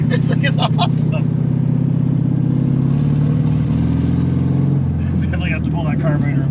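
A 1973 Volkswagen Super Beetle engine idling steadily and loud close by, a continuous low drone with a slight change in pitch partway through, while people talk over it.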